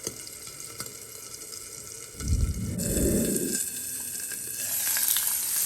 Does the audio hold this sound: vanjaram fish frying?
yes